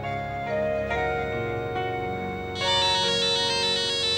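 A phone ringtone plays a repeating melodic tune, growing louder and brighter partway through, with no voices.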